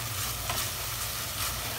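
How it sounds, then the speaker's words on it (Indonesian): Shallots, garlic, kencur and chili stir-frying in a pan, giving a continuous close sizzle with soft scraping of the spatula throughout. "Bawang merah, bawang putih, kencur, dan cabai. Ini kita tumis dulu sampai kering."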